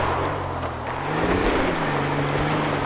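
An old Toyota car in GTA 5 drives with a worn-out, power-starved engine, giving a continuous rough drone with windy hiss and no talking.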